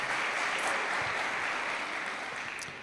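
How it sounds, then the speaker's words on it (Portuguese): A church congregation applauding during a Sunday morning service, a steady wash of many hands clapping together, fairly loud and continuous, gradually fading slightly toward the end with no voices over it. "Você pode aplaudir o Senhor Jesus"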